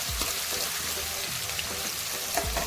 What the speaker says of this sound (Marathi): कांदा छान लालच्या रंगावरती छान असा परतून घ्यायचा आहे